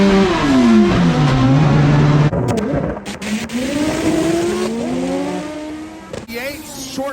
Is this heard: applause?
no